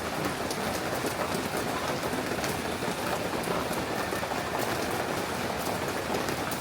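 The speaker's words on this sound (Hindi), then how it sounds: "ऐसी मस्त वाली बारिश पड़ रही है यहाँ, पूरी धांसू वाली।" Heavy rain falls steadily in Ghaziabad, a dense, unbroken hiss with close drops pattering on nearby surfaces. It keeps an even loudness from start to finish and no voices are heard.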